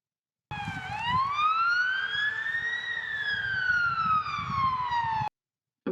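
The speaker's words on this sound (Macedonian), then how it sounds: "Противпожарно возило." A fire engine siren sounds a single long wail, rising then slowly falling in pitch, loud and close, with engine rumble beneath, then cuts off abruptly.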